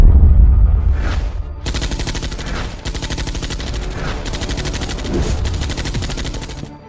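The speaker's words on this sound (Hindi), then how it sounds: "फातिमा, फायर! फातिमा उस आदमी के पैर को टारगेट करती है" Rapid bursts of loud gunfire ring out in an animated detective story, sustained automatic fire that drops out briefly between volleys, with no voices over it.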